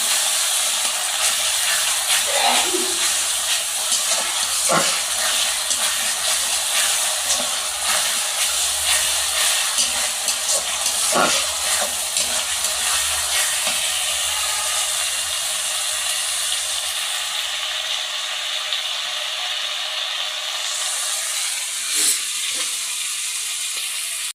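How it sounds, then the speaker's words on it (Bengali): Spices and green chilies frying on a stove, a steady loud hissing sizzle that runs on without a break, with occasional soft clinks and knocks from the pan. "এই যে মশলা আমি চুলার উপর দিয়ে দিচ্ছি, কাঁচামরিচ দিয়ে রান্না করছি কিন্তু"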